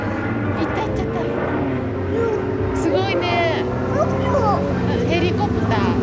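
A red helicopter passes overhead in a park, its steady engine and rotor drone filling the whole stretch, while young children chatter excitedly nearby.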